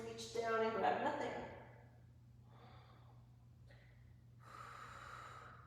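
Breathing during a yoga stretch: a loud close exhale with a snort-like rush of air, then softer breaths that fade and return, no talking.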